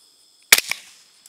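A single sharp rifle shot fired at a wild hog during a Texas thermal night-vision hunt, loud and close, with a quick echo after it and a faint click at the end.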